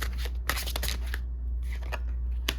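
A deck of tarot cards is shuffled by hand, close and fairly quiet, in quick riffling bursts with short pauses between them.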